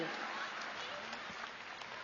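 Crowd applause at a table tennis match, the Singapore Smash 2025 women's singles round of 32, heard faint and distant, a steady wash of clapping with a few sharper claps standing out.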